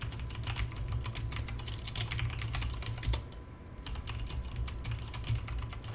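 Rapid, steady clatter of fingers typing code on a computer keyboard, close and continuous with irregular keystroke rhythm over a low background hum, no talking.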